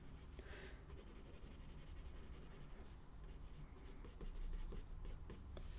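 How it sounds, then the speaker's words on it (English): A large Lyra graphite pencil scratches across paper in quick, close strokes, steady and fairly quiet, with short pauses between bursts of shading. "Now the big boy, this Lyra graphics graphite thing."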